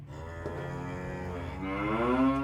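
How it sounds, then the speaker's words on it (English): A cow lows in one long, drawn-out moo that rises slightly in pitch toward the end, clear and fairly close, with no talk over it. "Oh, I hear a cow. Moo, it says."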